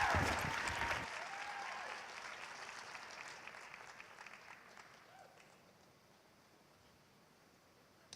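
A live event crowd breaks into applause that is strongest in the first second, then fades gradually into scattered claps and quiet rustling.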